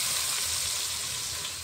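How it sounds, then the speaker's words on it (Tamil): Onions and tomatoes sautéing in a pan give a dense, even sizzle that holds steady and close for the whole moment, with no voices over it. "நல்லா வந்து கிறிஸ்பியாக வெங்காயத்தை வதக்கிறீங்க போல"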